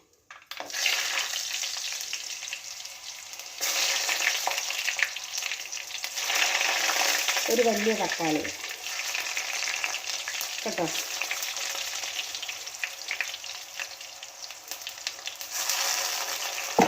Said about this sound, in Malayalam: തക്കാളി ചെറുതായിട്ട് വഴലണം